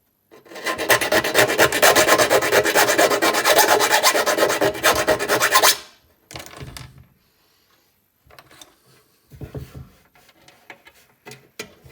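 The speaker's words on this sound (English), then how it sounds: "the hole needs a little file out to make sure it fits okay" A file rasps rapidly back and forth in a rivet hole of a Vickers machine gun ammunition box, loud and continuous for about five seconds. Scattered short scrapes and light knocks follow.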